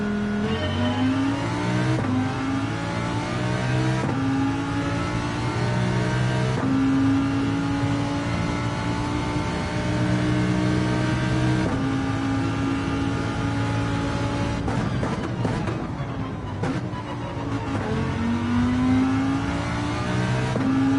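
Loud, continuous race car engines whine and climb through the gears in a racing video game, with repeated upshifts, revving and other cars close by, no talk.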